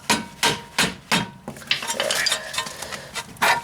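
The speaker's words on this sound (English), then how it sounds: "stick a screwdriver up in there and hammer it out" Four sharp metallic taps of a hammer on a screwdriver in a steady rhythm, freeing a stuck CV axle on a 2002 Mitsubishi Lancer, then a scraping clatter of metal and a final clank, close up.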